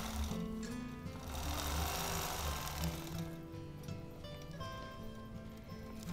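Sewing machine running steadily as crosshatch lines are quilted with ruler work, a continuous mechanical hum and rhythmic needle chatter at close range, no talk.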